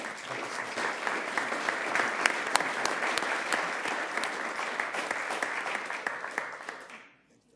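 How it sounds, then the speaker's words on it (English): A town council meeting audience gives steady, moderately distant applause for volunteers, with many overlapping claps that hold even for several seconds before tapering off and stopping. "Let's give them a round of applause, please."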